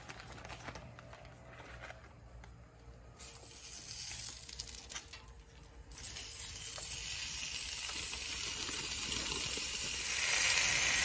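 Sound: bacon sizzling on a griddle

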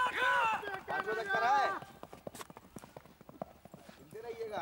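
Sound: horse hooves clip-clopping, new horse

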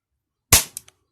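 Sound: mini gas blowback airsoft pistol shooting at target

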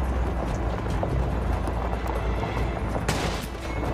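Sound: sniper gunfire in Modern Warfare 2 cutscene, video game

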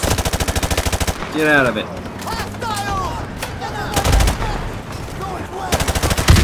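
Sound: gunfire in the video game Modern Warfare Remastered

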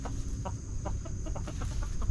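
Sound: chickens clucking

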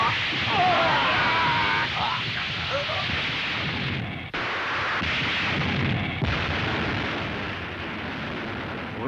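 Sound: gunfire in Kamen Rider V3 episode

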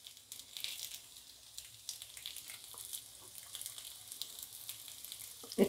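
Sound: appe (appam) frying in oil

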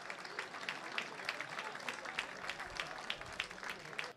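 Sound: applause

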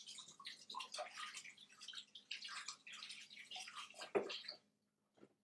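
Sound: washing hands under running water tap

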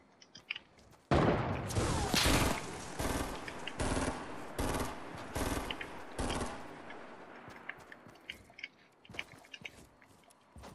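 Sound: gunfire from a video game

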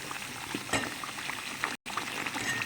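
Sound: masala frying in oil with mushrooms

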